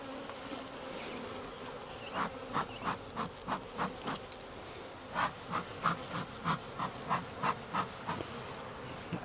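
Honey bees buzz steadily around hive frames being handled during queen rearing, a dense close hum broken by a run of short, regular pulsing bursts through the middle and end.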